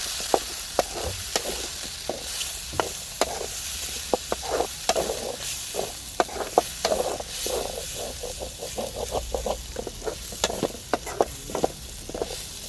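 Chicken head curry with coriander powder and spices being stirred in a pan: a steady run of scraping spoon strokes over a continuous close sizzle, with no talking.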